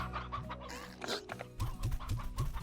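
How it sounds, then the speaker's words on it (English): Chickens and roosters in the video game Slime Rancher cluck over a looping musical backdrop, the clucks coming in a regular series of short, close calls that grow denser in the second half. "Mountain loads of chickens. And, have some roosters."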